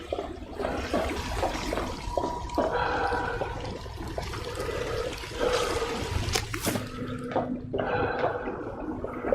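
Chemicals flush down a drain in a lab in the video game We Happy Few, continuous rushing, gurgling water with trickles and drips, steady and fairly close.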